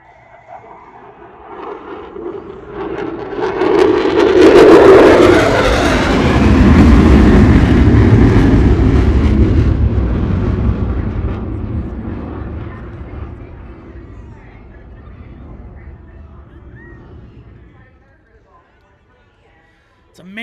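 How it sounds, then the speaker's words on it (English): An F-16 fighter jet at the Thunder Over Michigan airshow, its broad engine roar rising from a distant rumble to a loud pass, then fading away to near silence, with voices over it. "It's amazing how loud the F-16 can get and how quiet it can get very quickly."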